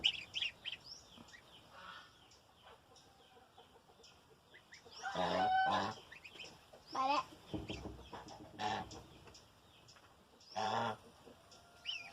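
Young goslings call in short, squeaky honks and chirps at intervals, some louder bursts among faint background cheeping, a voice briefly talking softly.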